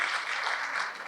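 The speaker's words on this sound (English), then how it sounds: "Shall we give another round of applause to the DVC speech?" Brief burst of audience applause at a university gala dinner, a dense, steady wash of many hands clapping for about a second.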